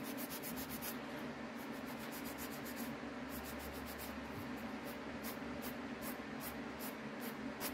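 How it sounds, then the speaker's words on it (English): A nail file works steadily over a fingernail, giving a continuous dry, raspy rubbing with regular strokes that stay close and fairly loud, with no talking. "I'm just filing it down."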